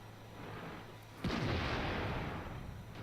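A Type 59 tank cannon fires once in World of Tanks, a single sharp heavy blast after quiet engine hum, trailing into a low rumbling decay.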